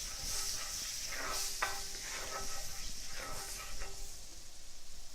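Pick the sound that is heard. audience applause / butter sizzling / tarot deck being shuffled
butter sizzling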